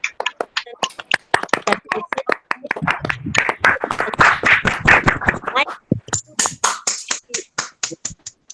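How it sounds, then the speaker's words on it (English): A school audience at an investiture and installation ceremony claps in a dense, steady round, the sharp hand claps starting scattered, swelling through the middle, then thinning to a few lone claps near the end. "A round of applause."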